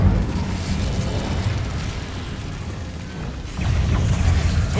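An Incendio fire spell from Hogwarts Legacy blasts out as a loud, continuous roaring whoosh, dense and close, easing slightly before surging again near the end, with no talking.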